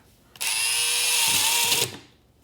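A power drill drives a small screw to secure a vinyl floor vent template, one loud, close whir lasting about a second and a half, starting abruptly and tapering off at the end.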